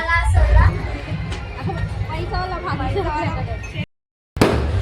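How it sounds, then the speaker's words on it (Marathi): A lively crowd at a late-night pani puri party near a temple, with dense chatter and excited voices that cut to silence for a moment before a loud burst returns. "रात्रीचे 12 वाजले तरी जल्लोष बघा किती आहे."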